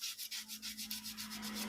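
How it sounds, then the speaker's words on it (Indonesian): Sandpaper rubs in quick circular strokes over a metal motorcycle shock absorber tube, a close, steady scratching with a rhythmic pulse of about eight passes, over a faint constant hum. "kita amplas dulu bagian yang barat ini"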